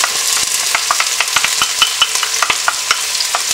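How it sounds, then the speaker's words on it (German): Onions, garlic and ginger sauté in a pan with a bright, loud sizzle, punctuated by rapid, regular clicks and scrapes of a utensil stirring against the pan, close up and with no voices. "Die Zwiebeln, die werden jetzt glasig angebraten."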